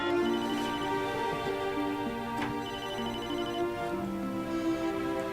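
A telephone rings on a call to a wife, a repeating electronic ringtone melody with steady tonal notes, moderately quiet and alone.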